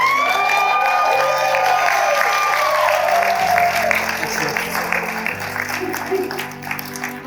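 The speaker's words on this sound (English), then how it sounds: "Please start clapping right now for the mother of our bride." Wedding guests clapping for the mother of the bride, a full round of applause mixed with a sustained tonal sound and some background music, fading somewhat toward the end.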